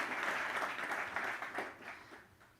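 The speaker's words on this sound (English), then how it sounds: "A round of applause for Ken." Applause from a conference audience after a speaker, a moderate patter of many hands clapping that gradually fades out.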